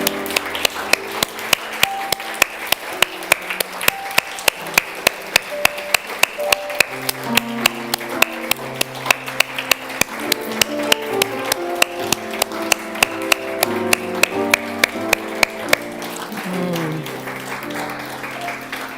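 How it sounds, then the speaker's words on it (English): Rhythmic, evenly spaced clapping from a church congregation honoring veterans at a Sunday service, moderately loud, carried along over organ or piano music that plays beneath the whole passage. "We have a flower to give you and a big, warm hand of applause."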